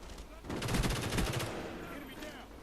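Rapid shotgun blasts from the Spaz in Call of Duty Black Ops, a close, loud run of repeated shots over about a second that fades into a ringing tail.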